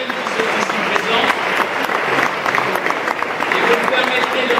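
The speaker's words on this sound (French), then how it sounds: "Nous applaudirons aussi tous les jeunes qui sont ici présents." Audience at a French political rally in La Rochelle, 2012, clapping for the young people present, sustained dense applause filling the hall steadily throughout.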